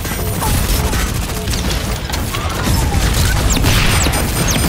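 Rapid gunfire rattles through a Super Mecha Champions battle royale match, mixed with clanking mech mechanisms and dense low booms, steady and loud throughout.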